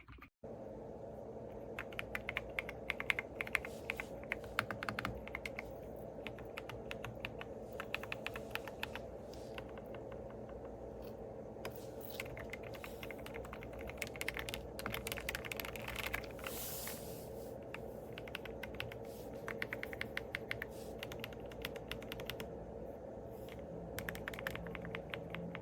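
Continuous fast typing on an RK Royal Kludge R65 wired 60% mechanical keyboard, a dense stream of close, light clicks and clacks over a faint steady hiss, with no voices.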